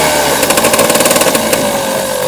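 An old 1990 250cc trial motorcycle engine running loud and close, a steady buzzing drone with a brief burst of rapid revving pulses in the middle.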